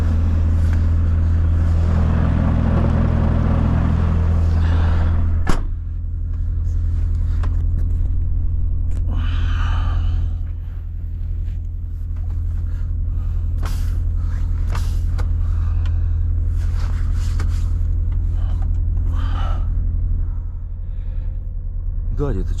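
A Volvo FH 540 truck rolls along a gravel road, its engine a deep steady rumble heard from inside the cab, with a sharp knock and rattles over the rough surface and someone talking over it.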